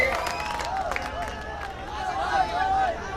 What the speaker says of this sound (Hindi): जोरदार तालियां भाई हाशिम को